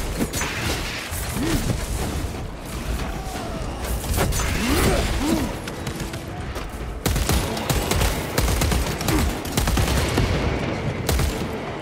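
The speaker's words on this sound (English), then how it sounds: "I like the extremely rapid fire." Rapid gunfire from Warhammer 40K Space Marine 2 rattles in sustained bursts, dense and loud, with heavy impacts and mechanical clatter mixed in and hardly any talk.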